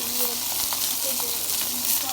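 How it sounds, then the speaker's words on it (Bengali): Steady sizzling and crackling of fish frying in hot oil, close up, with a continuous hiss throughout. "এই যে এখন মাছ ভাজা হইতেছে মাছ ভাজতেছি"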